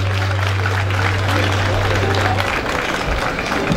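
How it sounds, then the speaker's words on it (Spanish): Spectators at a Mexican charro show applaud the charro team, dense clapping filling a few seconds alongside a steady low hum. "Y les pido un bonito aplauso para nuestro equipo."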